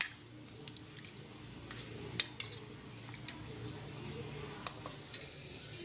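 Cooked green gram is mashed in a pan, soft squishing and stirring over a low sizzle, with light metallic clinks of a spoon against the pan.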